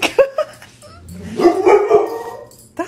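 A puppy with a small stick barks several times in quick, sharp bursts, close and loud, with a longer whining howl in the middle and no talking.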